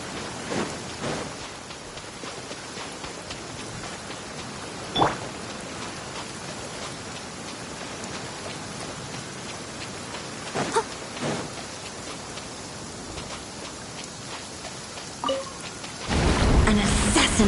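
Rain and thunder in the video game Genshin Impact: steady rainfall hisses throughout, broken by several sharp thunder cracks and rumbles, with a louder burst near the end.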